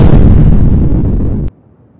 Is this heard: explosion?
yes